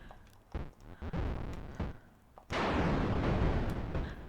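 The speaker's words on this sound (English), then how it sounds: "that's another great Atari Lynx explosion sound you can hear there." A burst of harsh, noisy Atari Lynx-style explosion bursts out loud and sustained after a few shorter rumbling blasts, with a crunchy, digitized texture.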